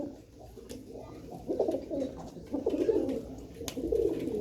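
Three silver pigeons kept at home give soft, throaty coos that swell and fade in a few rolling phrases, close by in a quiet room, with a faint voice now and then.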